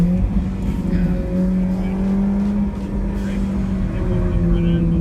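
A race car engine drones loudly and steadily at full power in fourth gear on the Vancouver Island Motorsport Circuit, its pitch creeping upward as it accelerates, with a voice speaking faintly over the noise.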